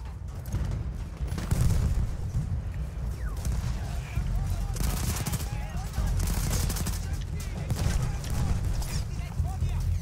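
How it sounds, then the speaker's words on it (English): Grenade blast amid battle in the Battlefield 1 video game, a muffled boom within continuous gunfire and rumble, with someone talking over it. "That was a grenade."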